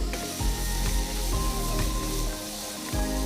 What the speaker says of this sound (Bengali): জাস্ট 1 মিনিট এটা ভেজে নিব হাই হিটে